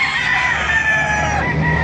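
Several chickens cluck and a rooster crows nearby at a chicken market in Baliuag, Bulacan, overlapping calls filling a short, busy stretch.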